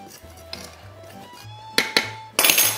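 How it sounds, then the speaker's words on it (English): Sugar, salt, baking powder and baking soda being stirred together in a mixing bowl for Irish soda bread, with soft scraping and a few sharper clinks of a utensil against the bowl near the end. "And I stir it all up like this"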